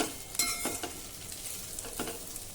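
Kondavale, a traditional Maharashtrian snack, sautéing in a wide shallow kadhai while being stirred. The sizzle is steady and faint, broken by a few soft scraping strokes of the stirring spoon, with no talk.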